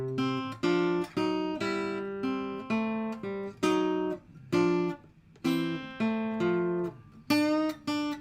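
Bluesy acoustic guitar plays the second line of a blues piece, a steady run of plucked notes and short chord stabs in a loping rhythm, close and clear with no talking.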